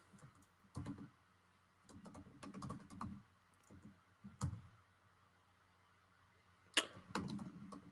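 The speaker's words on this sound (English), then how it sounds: "I'm typing this whole thing out." Clicking computer keyboard keys come in irregular bursts of typing, quiet and close, separated by short pauses, with no voices over them.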